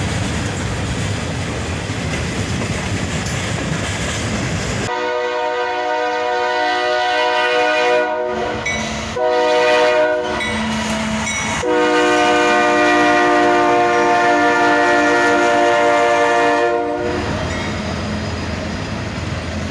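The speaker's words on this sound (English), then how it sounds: "we get a short horn salute from the engineer of this Norfolk Southern local train, led by a GP60" A Norfolk Southern local train led by a GP60 locomotive sounds a short horn salute, loud and close: a few chord blasts in quick succession with brief gaps, over the steady rumble of the passing train.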